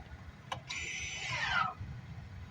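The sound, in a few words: 2023 Chevrolet Malibu LT electric parking brake engaging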